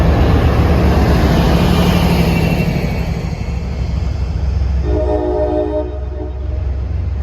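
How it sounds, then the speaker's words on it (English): A K5LA horn sounds on an MBTA commuter train departing South Station on the Fairmount line, a steady tonal blast near the end over loud continuous rumble of rolling rail cars. "Heard that K5LA horn"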